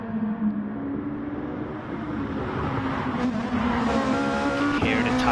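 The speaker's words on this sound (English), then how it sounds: "Hear the tires squeal on these super mean cars of 700 horsepower" Tires squeal on 700-horsepower GT race cars at the Nürburgring 24-hour race in a sim racing broadcast, loud engine drone with sliding tire noise running continuously under the action, rising slightly toward the end.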